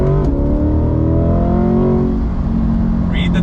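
A Lingenfelter-modified 2021 C8 Corvette engine accelerating on throttle, a loud close roar with rising pitch that climbs steadily then levels off into a dense exhaust drone, with no talk.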